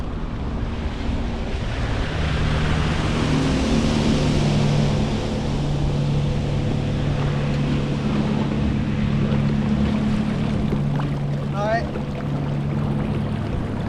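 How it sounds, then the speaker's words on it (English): Wake waves from passing boats rocking a SeaStream Angler 120 pedal-drive kayak on open water: steady wash of water and wind noise with a droning boat motor in the background, continuous and close. "There's more boats passing by, so maybe we're gonna get more weight."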